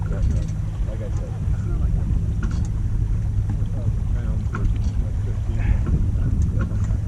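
Wind rushing steadily over a sailboat during a Wednesday night race at Nyack Boat Club, a constant low roar with water wash and faint rigging sounds throughout, close and moderately loud.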